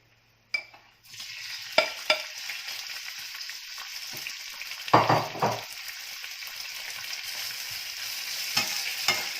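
Pork stir-fried in a hot pan for a gravy noodle dish: a steady moderate sizzle broken by several sharp scrapes and clatters of the utensil against the pan.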